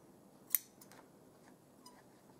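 Scissors snip crochet thread while a jute burlap tote is being embellished, one sharp close cut followed by a few faint clicks in a quiet room.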